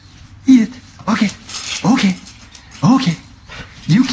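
A dog whimpers while being given a cookie, making a series of short, rising whines about once a second. The sounds are close and fairly loud.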